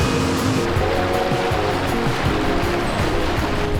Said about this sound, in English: There's a rushing creek here with a big flat slanted rock on one side.